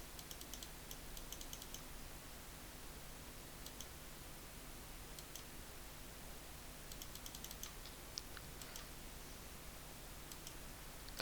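Soft keystrokes on a computer keyboard come in short, irregular bursts of quiet clicks while text is typed, faint and alone over a low background hiss.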